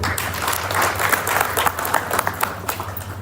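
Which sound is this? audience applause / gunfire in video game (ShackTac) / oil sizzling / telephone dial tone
audience applause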